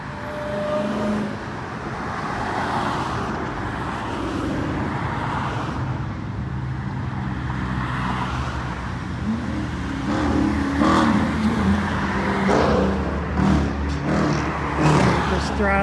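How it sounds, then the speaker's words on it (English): Classic cars pull away from a traffic light on Woodward Avenue on a Saturday evening cruise, engines throttled and revving as they pass nearby, a steady roadway rumble that swells louder toward the end. "Just throttling on their engine"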